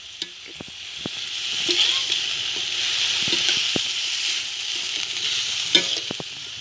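Pork and broccoli stir-frying with oyster sauce in a pan outdoors, a steady loud sizzle with scraping stir strokes and occasional clanks of the spatula, no talking.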